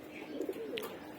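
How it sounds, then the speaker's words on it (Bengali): A sick stray pigeon coos softly with a few low rolling notes in the middle, close by and alone, along with a brief faint higher chirp. "আর এখন যেটা আসছে এটা একটা অসুস্থ কবুতরই।"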